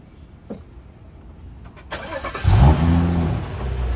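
A BMW N55 engine fitted with a Turbosmart VR9 dual port valve cranks and fires up after a couple of faint clicks, then settles into a steady, close, loud idle.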